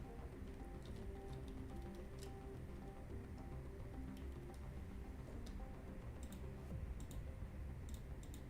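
Faint, scattered key clicks from typing on a keyboard tap along irregularly over a low, steady room hum.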